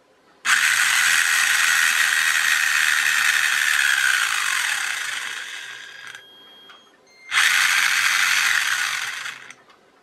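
A cheap RC car electric motor driven by its ESC whines loudly at a steady pitch, then slows and falls away under braking, goes quiet briefly, and whines up again running in reverse before fading.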